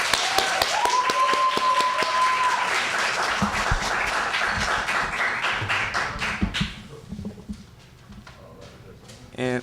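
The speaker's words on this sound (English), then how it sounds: "Let's give Troy a great round of applause there." An audience at a library poetry reading claps for a performer, dense applause with a few sharp individual claps that fades into scattered claps and near-silence toward the end, with a voice speaking over it.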